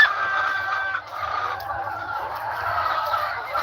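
Full-grown chickens clucking around a chicken tractor on a farm, a steady mix of overlapping clucks and murmuring calls from several birds close by, continuous with slight dips in level.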